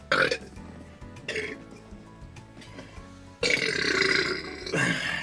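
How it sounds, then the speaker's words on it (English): Several loud, close burps after drinking beer, two short ones followed by a longer, drawn-out belch, with quiet pauses between them. "If I start burping uncontrollably, you know why."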